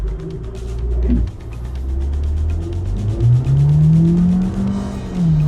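A 2021 Audi Q3 in dynamic mode accelerates hard from inside the cabin, the engine note climbing in a rising drone through a gear change and continuing to build, loud and close, with no talking.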